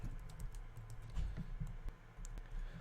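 Quiet, steady typing of code on a computer keyboard, a run of soft close key clicks with irregular rhythm and no talking.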